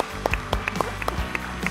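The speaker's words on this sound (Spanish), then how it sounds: "Un aplauso para ellos." A studio audience applauds the guests of a late-night Argentine talk show, with brisk, continuous clapping from a nearby crowd and a faint voice briefly mixed in.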